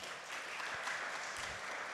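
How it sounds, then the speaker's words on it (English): Applause from a crowd, a steady wash of clapping heard faintly, as if from a distance or at low level. "A round of applause again, please."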